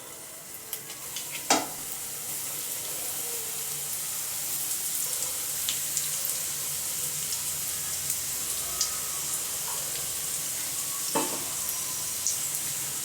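Bun parotta dough fries in a little oil on a pan over medium heat, giving a soft, steady sizzle with occasional louder crackles and pops throughout.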